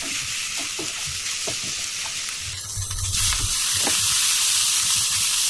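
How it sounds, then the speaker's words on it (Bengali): A stuffing of chilli, onion, potato and chicken with spices fries in a pan for stuffed pointed gourd, with rhythmic stirring scrapes over a steady sizzle that swells louder toward the end. "পুরটা হালকা বাদামি করে ভেজে নেব"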